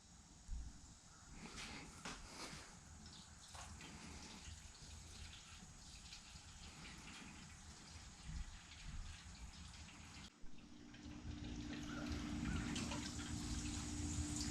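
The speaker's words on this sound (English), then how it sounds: "It's water." Water spilling and trickling steadily and fairly faintly in the background during work on a Starion/Conquest car build, with a slight shift in tone partway through.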